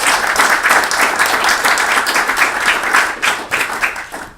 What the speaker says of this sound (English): If we give the panel members a round of applause.